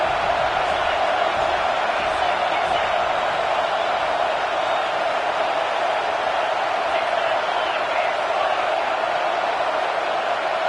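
Stadium crowd roaring at a college football game at USC in rainy weather, a loud, unbroken wall of cheering that holds steady throughout.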